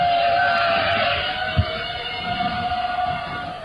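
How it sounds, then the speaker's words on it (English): A steady mechanical drone of drones flying in the sky, with a constant high whine like distant propellers buzzing overhead, holding at an even level for several seconds. "you will hear the hum of drones in the sky"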